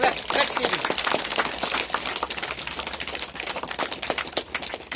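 Audience clapping at the inauguration of a community hall, a dense steady patter of many hands filling the room and continuing for several seconds with some voices underneath.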